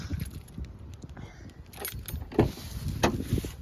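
A car is locked in a parking area, with keys jangling, a couple of short sharp lock clunks or chirps, and faint background rumble, all close by.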